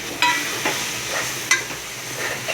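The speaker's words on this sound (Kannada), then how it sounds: "ಇವಾಗ ಮಸಾಲೆ ಎಗ್ ಕರಿ ಪೌಡರು, ಧನಿಯಾ ಪೌಡರ್, ಚಿಲ್ಲಿ ಪೌಡರ್ ಎಲ್ಲ ಹಾಕ್ಕೊಂಡು ಮಿಕ್ಸ್ ಮಾಡ್ಕೊಳ್ಳೋಣ." A spoon stirs spice powders into an egg curry masala in a hot pan. Soft scraping strokes repeat over a light, steady sizzle, close and without speech.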